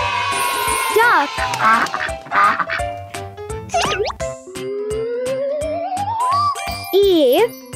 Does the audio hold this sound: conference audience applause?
no